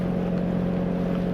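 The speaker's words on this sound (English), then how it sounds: "We're motoring very low revs just to conserve fuel." A steady, close low drone from a sailboat's engine motoring at very low revs, loud and unbroken, with faint wind and water noise beneath it.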